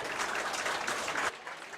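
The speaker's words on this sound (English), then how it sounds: "Let's give these kids a nice round of applause." Brief burst of crowd clapping for kids at a county fair livestock show, steady and fairly faint, cutting off sharply near the end.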